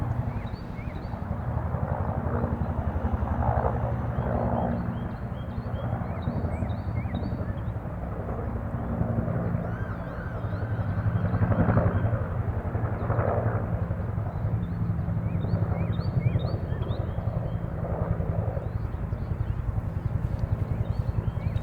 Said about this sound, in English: Let's take a breath break because the helicopter's going past.